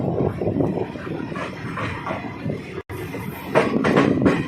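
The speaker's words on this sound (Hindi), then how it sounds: "Train is arriving at Roorkee railway station." The Ramnagar–Chandigarh weekly superfast express rolls into Roorkee railway station, its wheels rumbling and clacking over rail joints with rising clatter and faint squeals near the end, loud and close, no voices.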